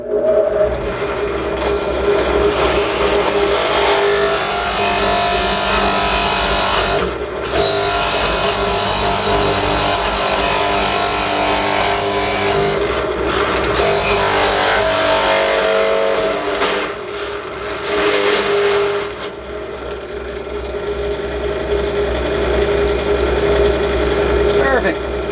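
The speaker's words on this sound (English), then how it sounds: "I'm going to very carefully and very tightly hold this and drill the hole in the center of this chunk of laminate." A 5/8 inch spade bit bores through a chunk of wooden laminate with a steady, close, whirring buzz that runs for nearly half a minute, broken by a couple of brief dips.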